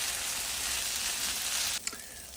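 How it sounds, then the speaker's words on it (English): Vegetables sautéing in a pan before rice goes in for fried rice: a dense, steady hiss of frying fills the clip closely, then breaks off with a small clink and a quieter sizzle. "now our vegetables are getting nice and sauteed"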